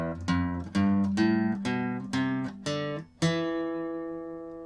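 A guitar picks single notes of a scale one at a time in a clear, even rhythm: about eight separate plucked notes, each ringing briefly, with the last one left to sustain and fade.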